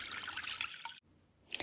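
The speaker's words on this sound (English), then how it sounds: "we're going to fill this up with about 2 cups of water" Water splashes and trickles into a pot in a quiet, brief pour, stopping abruptly, then a short second splash follows.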